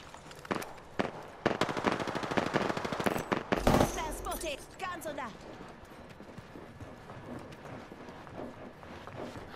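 Rapid gunfire cracks in Apex Legends, bursts of shots mixed with game effects and a heavy impact, with voices chattering throughout.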